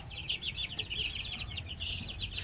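Nine-day-old chicks peep in a rapid run of high, thin calls, many overlapping, with a steady low rumble underneath and no talking.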